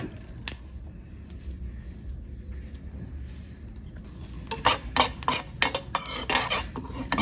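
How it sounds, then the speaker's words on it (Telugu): Mustard seeds and cumin roasting in a pan over a quiet hiss at first, then a burst of close metallic clinks and scrapes as a spoon stirs them in the second half. "కొంచెం ఆవాలు, కొంచెం జీలకర్ర ఈ దోరగా వేయించుకోవాలి"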